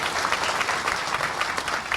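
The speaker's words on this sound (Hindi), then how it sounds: "जोरदार ताली बजाओ माननीय मोदी जी के लिए" A crowd at a public event in Madhya Pradesh claps for Prime Minister Modi, steady dense applause throughout.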